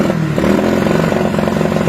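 A motorcycle engine in a workshop is revved hard during a battery charging-system test, giving a close, loud, steady drone with rapid pulsing firing beats throughout the brief burst.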